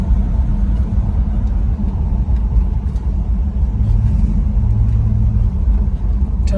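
A 1967 Dodge Coronet 440 on a road run, its engine giving a loud, continuous low rumble from inside the car with steady road noise and no clear revving.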